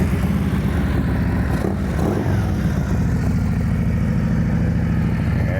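A Harley-Davidson CVO motorcycle engine runs steadily at a loud, close, throaty idle with a constant low rumble throughout and no talk.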